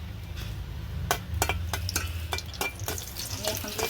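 Two dried red chillies fry in oil with a constant, close sizzle, while a utensil stirs and knocks against the pan in a string of sharp clicks.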